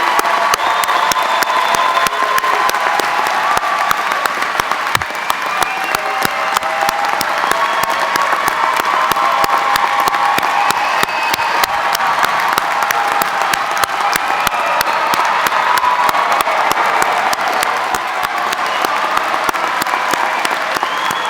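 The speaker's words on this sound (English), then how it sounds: "How about a big round thundering applause for the class of 2019?" Large crowd at a 2019 spring university commencement ceremony at Radford University gives sustained, loud applause mixed with cheering and whoops, steady and dense throughout.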